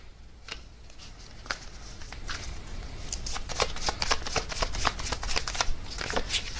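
Tarot cards being shuffled by hand and dealt out, a run of quick papery riffles and slaps that grows denser and busier toward the end, close and fairly quiet with no talking.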